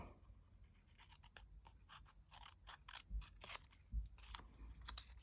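Scissors snip through folded paper for a mini journal craft, a string of short crisp crunchy cuts in quick succession, close and fairly quiet, with two slightly heavier snips near the end.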